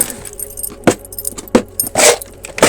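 Keys jangle against a basement door lock in several short bursts while someone fumbles for the keyhole without looking, loud and close with no talk.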